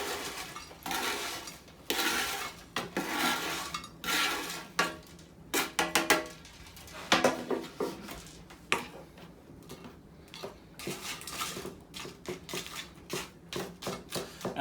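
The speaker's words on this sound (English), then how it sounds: "scoop these all right into your favorite serving container" Poutine fries are scooped into a serving container, with a series of irregular close clatters and taps against the dish, no speech.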